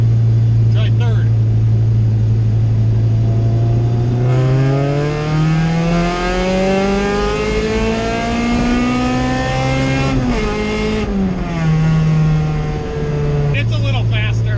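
A car fitted with a Jackson Racing supercharger accelerates hard in third gear with the belt slipping, its loud engine note climbing steadily in pitch, easing briefly, then rising again, heard from inside the car.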